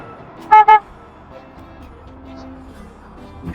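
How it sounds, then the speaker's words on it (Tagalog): Two short, close car horn honks in quick succession from a faulty horn, thin and buzzy, followed by quiet street background. "May sira na naman yung busina ko, parang tunog."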